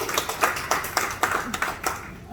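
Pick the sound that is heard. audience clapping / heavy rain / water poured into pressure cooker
audience clapping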